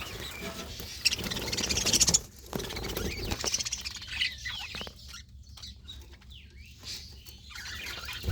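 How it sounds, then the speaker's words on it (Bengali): Several pairs of adult birds in a breeding colony chirp and rustle at close range, a busy burst of scratchy calls and flutters for the first two seconds, then sparser scattered chirps and shuffling. "এখানে ছয় জোড়া পাখির মতো আছে"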